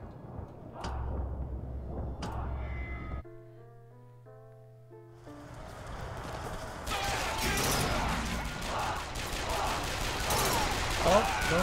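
Gunfire from BioShock Infinite: a couple of sharp shots, then a tonal game passage, then a dense, loud burst of rapid gunfire and crashes in the final seconds.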